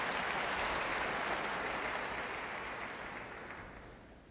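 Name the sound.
audience applauding after a lecture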